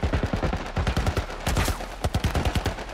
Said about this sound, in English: Why am I shooting Ellie?